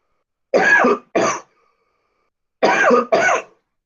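Two pairs of harsh, close coughs, each a quick double burst, separated by a couple of seconds of silence.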